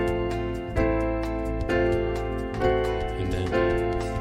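A theme played at full speed, starting on an A, with a steady series of bright plucked or struck notes and sustained low tones, moderately loud, close and continuous with no talking.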